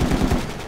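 Rapid automatic gunfire in Project Reality, set in the Falklands War, rattles in a fast, loud burst close by for under a second.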